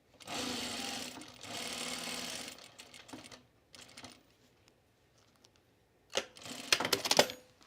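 Sewing machine stitching a dart in a dress, two close bursts of rapid mechanical whirring, then scattered clicks and taps, and a final quick run of stitching.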